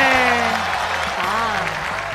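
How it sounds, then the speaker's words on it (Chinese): A nightclub show audience applauds for performers. The clapping runs as a continuous, fairly loud wash while a host's voice and some tonal music sound over it. "那我们再次用掌声感谢饺子、欢欢他们两位"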